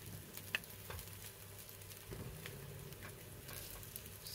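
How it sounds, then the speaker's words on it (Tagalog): Burger bread warms in a hot pan with a soft, steady sizzle, faint and continuous with a few small pops, and no voices. "atin naman itong iinitin ang ating bread"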